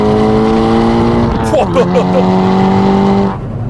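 A prepared Cupra revs hard toward about 7000 rpm, a loud, close engine note climbing steadily with a brief dip and shift-like break midway, while a voice talks over it.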